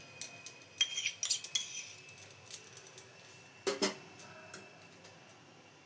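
A metal spoon clinks and scrapes against a bowl in scattered bursts as cauliflower florets are mixed with sour yogurt, ginger-garlic paste and spices for pakoda, loud at moments with quiet gaps between.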